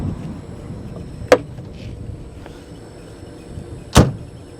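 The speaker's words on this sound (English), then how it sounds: "This is how you open the door, just like knuckles." A Mercedes 300 SL door is opened: two sharp metallic clunks of the latch and handle, seconds apart and close up, over a quiet background.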